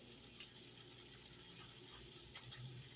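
A tap runs softly while hands are rinsed in a kitchen sink during breakfast preparation, giving a steady low wash of water with a few small splashes and drips, fairly faint and without voices.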